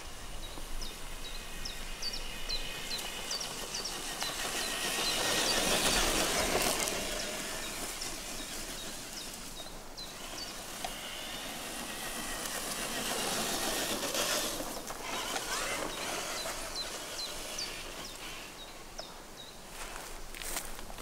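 A Traxxas TRX-4 RC car runs at full speed outdoors, giving a continuous whirring drive noise that swells and fades as it moves, with no talking.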